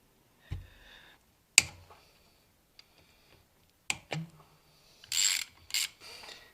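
Ratchet working loose the 8mm oil filter cover bolts on a Honda TRX700XX ATV: a few scattered clicking bursts and sharp metallic snaps, close and fairly quiet, with short pauses between.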